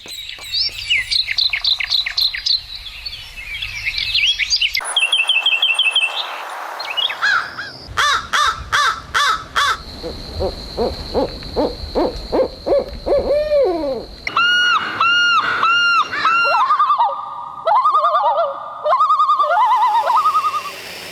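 A run of bird calls in quick succession: hooting owl notes, harsh crow caws and bright chirps and tweets, loud and close with no talking.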